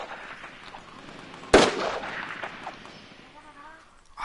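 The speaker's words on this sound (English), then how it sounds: "Oh, that's a hand cannon." A single loud, sharp hand cannon (Deagle) shot in the video game Fortnite, cracking out suddenly with a short fading tail amid quieter game sounds and voices talking.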